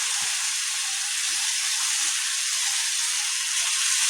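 Masala spices fry in a pan with boiled, salted jackfruit seeds, giving a continuous bright sizzle and hiss with a few soft stirring thuds, close and steady with no talking.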